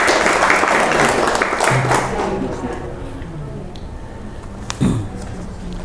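Applause for a new member at a ceremony welcoming new Buddhists in Madiun, dense clapping at the start fading out, followed by murmuring voices and scattered noise.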